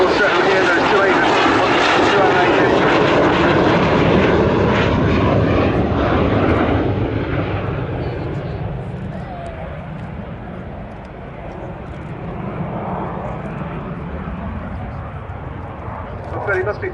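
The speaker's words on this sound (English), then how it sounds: "to do a 360, just to really show off that beautiful shape, and also here those 2 engines." A de Havilland Sea Vixen jet roars through an airshow display at Yeovilton Air Day with its two engines, loud and close at first, then fading into a distant rumble, under a commentator's talk.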